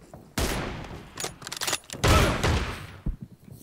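Gunfire from a shotgun in an online team shooter game, with sharp loud blasts and rapid bursts spread through the clip, close and dominant over faint background.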